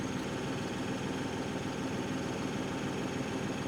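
Steady, continuous diesel engine drone of a New Holland Workmaster 75 tractor pulling forward, a close, even rumble with a regular low throb and no talking.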